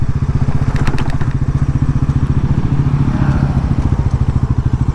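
A 2025 Bajaj Pulsar NS400Z 400cc motorcycle idles and crawls through a slow U-turn, its single-cylinder engine thumping in a loud, close, even rhythm with a light clatter, no voices.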